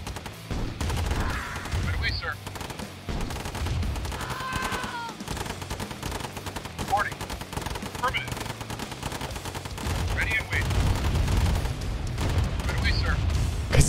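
Heavy booming cannon fire rattles repeatedly in a Command and Conquer Remastered battle, bursts overlapping with explosions while people talk over the din.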